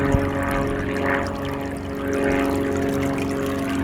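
Water runs steadily over a magnet sluice mat carrying magnetite, a continuous close, loud rushing wash with a low steady hum beneath it and no talking.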